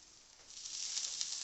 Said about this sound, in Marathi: आणि आता एक एक काप आपण तव्यावर ठेवून भाजून घ्यायचा आहे